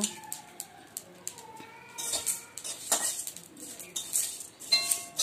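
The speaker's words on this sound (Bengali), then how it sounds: "দারচিনিটা তো সহজেই ভাজা হতে চায় না। চলুন এগুলো ভালো করে খালি করে ভেজে নেব।" Cardamom pods and cinnamon being dry-roasted in an empty pan, heard as quiet, irregular scrapes, rattles and metallic clinks of a spoon stirring against the pan, in short bursts.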